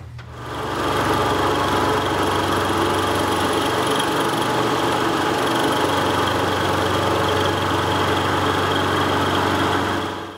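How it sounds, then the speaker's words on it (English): A 1985 Ford Bronco engine running after its rocker arms were repaired, a steady, even idle with a smooth, continuous mechanical hum and no obvious ticking, heard up close for about ten seconds without talk. "when running the engine, the valve train is much, much quieter now."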